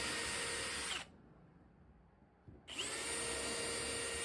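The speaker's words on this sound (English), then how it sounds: "I'm drilling a nice straight hole" A power drill bores a straight hole while building a mallet: a loud, steady high whine runs, cuts out briefly to near silence for about a second and a half, then spins back up at full speed.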